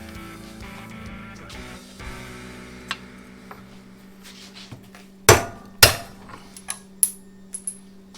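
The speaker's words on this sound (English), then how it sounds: "So let's break out the hammers." Hammers strike metal parts of a Born Free 13 motorcycle engine being torn down, a few scattered clinks building to two loud sharp bangs followed by lighter metallic taps and ringing, close to the mic.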